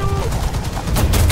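Rapid tank cannon and machine-gun fire in War Thunder during a match with a Merkava Mk1, a dense loud fusillade of overlapping shots with no talk over it.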